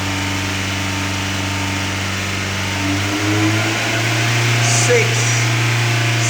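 A 2005 VW Jetta 2.0 engine with a lean-running fault holds a steady hum near 3000 RPM, close and loud, its pitch lifting slightly partway through while someone speaks over it.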